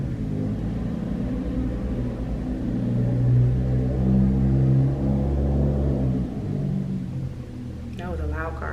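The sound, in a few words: loud car passing by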